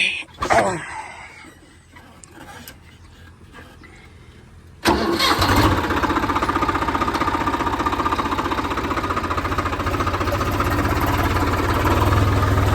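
A tractor working a maize field for puddling coughs to life: a brief sputter, a quieter lull, then the engine catches around the midpoint and settles into a loud, steady, close running rumble.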